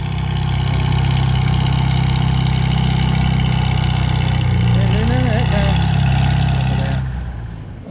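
A Farmall 300 tractor roars under heavy load at a tractor pull in Denton with its wheels spinning; a loud, continuous close engine drone that fades away after about seven seconds.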